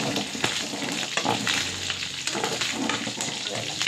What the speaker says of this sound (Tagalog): Nakatapos yung talsik ng mantika.